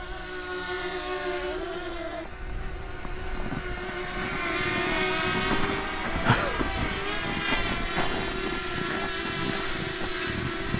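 A DJI Mavic Mini drone flies outdoors in wind and snow, its steady high-pitched propeller whine holding throughout over a broad rushing background, with no talk.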